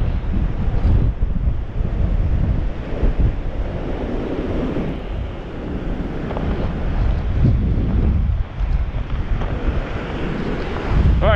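Gusty wind buffets the microphone over a continuous roar of ocean surf breaking at a beach during squalls, loud and unbroken throughout with no voices.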